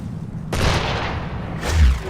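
Ship cannons fire in a naval battle in Assassin's Creed 3, giving two heavy booms about a second apart, each with a long rumbling tail, loud and close.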